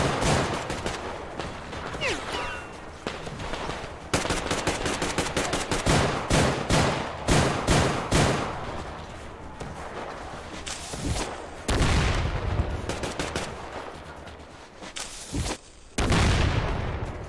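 Sustained gunfire in the first-person shooter Metro Exodus: loud, dense bursts of automatic fire with sharp rapid cracks and heavy booms, coming in waves with brief pauses.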